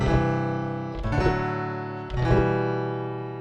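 Three sustained keyboard chords are played one after another, each struck and left to ring and fade, clear and close with no talking.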